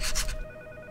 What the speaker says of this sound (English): Will someone answer the fucking phone?